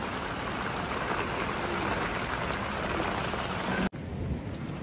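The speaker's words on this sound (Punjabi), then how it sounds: "ਮੀਂਹ ਤੇਜ਼ ਹੋਣ ਡਿਆ" Heavy rain pours down during a mountain trek to Kareri Lake near Dharamshala in May, a dense, loud, unbroken roar of rainfall with a faint rumble beneath it and no talking.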